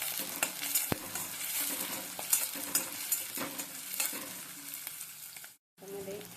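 Onion and tomato sizzle steadily in a pan for a pav bhaji-style dal tadka, with scraping stirring strokes throughout, close and moderately loud, before a brief silent break near the end.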